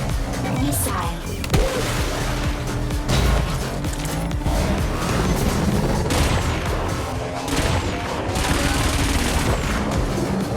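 Missile fire in the futuristic anti-gravity racer Wipeout Omega Collection, a loud burst of blasts and booms over dense, continuous racing engine noise and music, with a voice talking over it.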